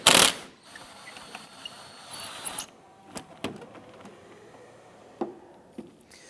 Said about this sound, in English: Loosen this clamp.